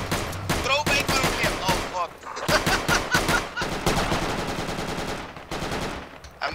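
Rapid machine-gun bursts and overlapping gunshots from a multiplayer war shooter video game, loud and dense throughout, with brief lulls between volleys and some speech mixed in.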